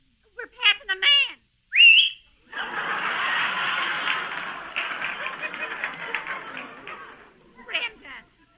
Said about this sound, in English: don't you know it's not right to whistle at man?